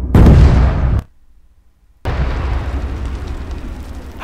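In Arma 3, an M2A4 Slammer UP tank's 105mm cannon fires at a red container, giving a loud close blast, then a second of near silence and a long rumbling boom with debris.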